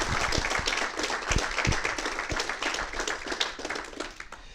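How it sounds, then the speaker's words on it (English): Applause at a military promotion ceremony at Lajes Field in the Azores rises from a moderate crowd, with distinct, crisp claps sounding for about four seconds before starting to thin out. "Let's give them all a round of applause."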